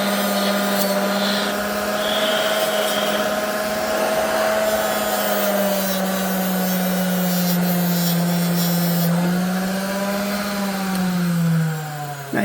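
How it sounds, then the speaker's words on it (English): A Dremel rotary tool with a rounded diamond bit grinds a pattern into a sculpted Predator bust. It gives a continuous high-pitched whine that holds steady and dips slightly in pitch near the end, heard close and alone. "Take a Dremel with a rounded diamond bit."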